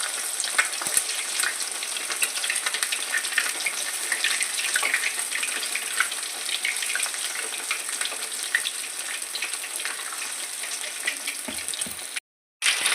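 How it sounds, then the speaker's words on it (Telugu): Chicken lollipops, half a kilo in ten pieces, fry in hot oil with a steady, dense sizzle that runs unbroken and fairly loud, with no talking over it. "ఆయిల్ వేడి అయిపోయింది. ఇప్పుడు లాలీపాప్ వేస్తున్నాను"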